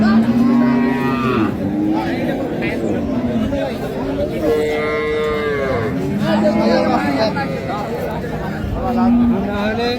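Several cattle moo repeatedly, long low calls overlapping one another, close by amid a chattering crowd at a busy cattle market where animals are being bargained over.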